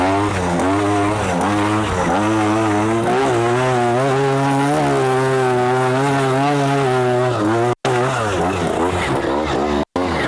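A trials motorcycle on brand-new tyres is ridden in third gear, its engine droning loud and close without a break, the pitch rising and falling in waves as the throttle is worked.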